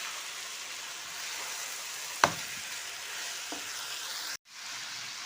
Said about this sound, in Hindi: ये हमारी भुनाई हो रही है गोभी की